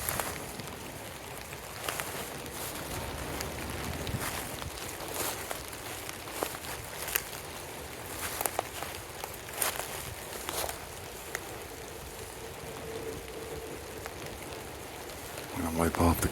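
Rain falls on an outdoor camera during an Ohio Bigfoot expedition: a steady close hiss broken by irregular sharp taps of drops hitting the housing and lens, with footsteps or rustling and a faint muffled voice underneath.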